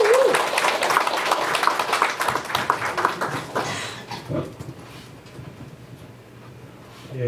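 An audience at a meeting claps to welcome a speaker, a dense burst of applause that thins out and fades after about four seconds, leaving faint room noise.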